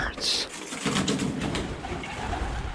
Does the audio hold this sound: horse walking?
no